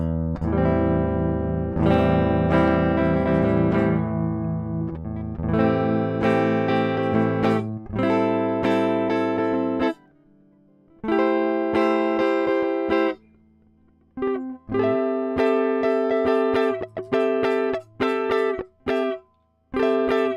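Distorted electric guitar chords ring out one after another, each held for a few seconds, with short gaps and quicker stabs toward the end.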